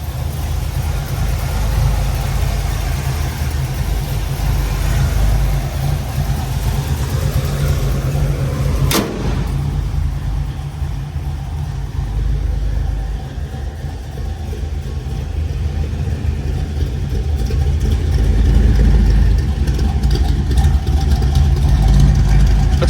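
The engine of a 1957 Chevrolet show car idles in a steady, loud, close rumble that stays even throughout, with one brief sharp click partway through and no talking.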